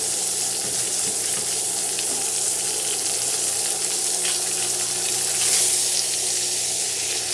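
A steak sears in a hot pan, giving a steady, dense sizzle and crackle that runs continuously at moderate loudness with a slight swell near the end, no voices over it.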